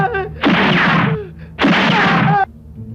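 Gunfire in a Filipino comedy film: two loud, sustained bursts of shots, each lasting under a second with a short pause between, standing out over a low background.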